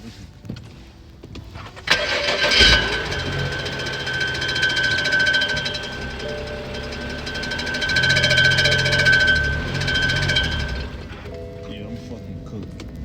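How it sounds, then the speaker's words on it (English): A BMW car engine cranks and starts, then settles into a loud idle with a persistent metallic rattling whine, surging twice before dropping off, heard close up with no talking. "Why my car sound like this when I started up?"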